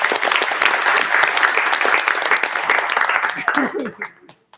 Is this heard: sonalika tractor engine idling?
no